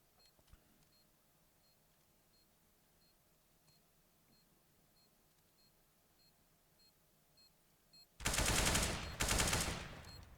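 Rapid gunfire from Counter-Strike on the Cobblestone map, in two loud bursts near the end after a long stretch of quiet game ambience.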